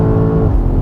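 BMW M5 engine blipping on a downshift, a brief loud, deep, rumbling rev heard up close.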